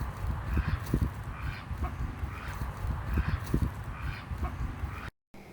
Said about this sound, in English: here is what a drake sounds like.